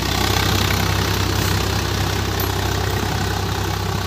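A loud, close Swaraj 855 tractor engine idles with a steady rumbling throb, unchanging and uninterrupted, with no voices over it.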